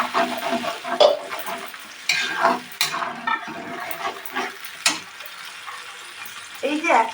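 A paste of ginger, garlic, onion, tomato and green chilli is stir-fried in a pan for chicken Manchurian, with bursts of sizzling and spoon scraping in an uneven rhythm, close and moderately loud.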